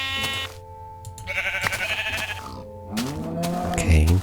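Sheep in Minecraft bleat several times in quick succession, loud and close, with wavering tones. Short game sound effects sit between the calls.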